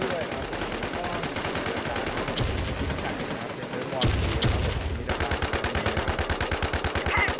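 Rapid automatic gunfire in WarmZ rattles in fast, regular bursts, loud and close, pausing briefly before resuming, with a voice speaking underneath.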